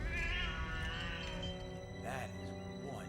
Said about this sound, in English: She's got a cat!